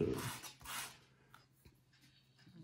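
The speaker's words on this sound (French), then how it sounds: "c'est les cales hein, qu'il est en train de poncer" Wooden shims being sanded for a pendulum clock, giving soft raspy rubbing strokes, two stronger passes and then fainter scraping, close and quiet.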